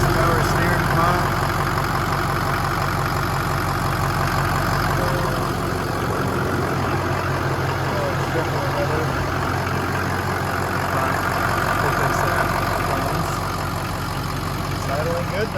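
The engine of a rebuilt, previously wrecked truck idles steadily, a loud, constant low rumble with a mid-range drone that continues unchanged throughout.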